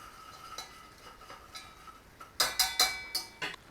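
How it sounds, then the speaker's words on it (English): Metal utensil clinking and scraping against a pan while stirring country gravy for fried chicken, a few soft taps early then a quick cluster of sharper clinks, close and fairly quiet with no talking. "A little stir on there, look."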